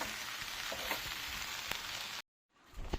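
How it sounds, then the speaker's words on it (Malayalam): Oil sizzles steadily as jackfruit seeds and greens fry in a pan with mustard seeds, with faint stirring, then the sound cuts off abruptly near the end. "ചക്കക്കുരുവും ചീരയിലയും കൂടെ കടുക് വറുത്ത് എണ്ണയിലിട്ട് ഒന്നിച്ച് ഇളക്കിയെടുക്കുകയാണ്"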